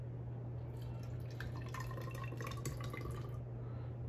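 Water is poured from a container into a small funnel, producing faint trickling and dripping splashes over a steady low hum, with no talking.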